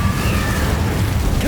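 An Incendiary spell blast in the video game Hogwarts Legacy, a loud, dense roaring burst of fiery noise that fills the whole moment.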